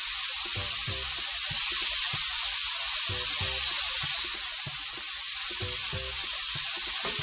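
Jerk shrimp fry in a hot pan, giving off a steady, loud sizzle with a broad hiss and soft popping crackles that run on without any talking.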